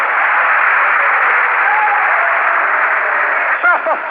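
A church congregation applauds in a steady, dense wash of clapping that holds evenly for several seconds, with a faint voice briefly surfacing near the end.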